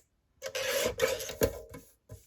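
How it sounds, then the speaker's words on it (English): Paper signatures for a junk journal being trimmed: a few close, dry rasping cuts in separate short bursts with brief pauses between them, and no talk. "This one I can trim down there, and then I'll trim down the other end."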